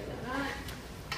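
A spoon stirs fresh basil, dried oregano and rosemary through a cooking pot, giving a brief soft scraping and gentle sizzle, with faint taps near the end.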